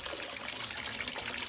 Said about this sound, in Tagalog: Talagang aagos lang ng aagos. Kasi ito ay galing sa bundok.